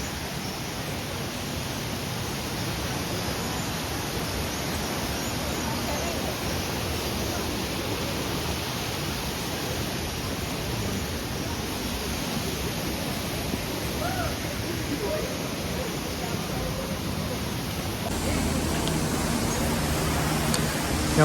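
The Kaliya Nala waterfall near Rishikesh pours as a loud, continuous broadband rush of falling water, steady throughout and swelling slightly near the end, with no other sounds standing out.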